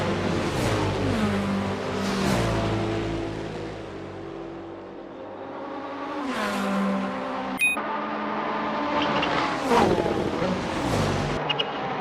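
GT3 race cars, including a Porsche and a Lexus, howl through the 24 Hours of Daytona in a racing game, engines rising and falling in pitch through gear changes as cars pass at moderate distance.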